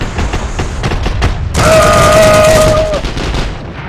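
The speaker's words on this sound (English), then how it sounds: "I don't forget I have a heavy machine gun. I need to use my HMG." A heavy machine gun fires in a shooter video game, giving a loud sustained burst of rapid shots near the middle. Quieter gunfire and booms come before and after it, and a voice is faintly heard.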